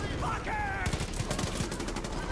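Gunfire in the video game Far Cry 5 comes as a rapid string of close shots after a brief lull, crackling steadily for over a second.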